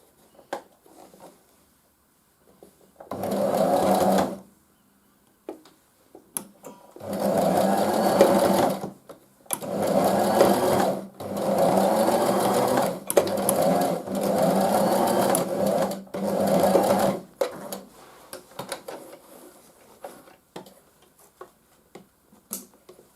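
A sewing machine stitching fabric face masks runs in several sustained bursts of rapid whirring, separated by short pauses, loud and close with no talk over it.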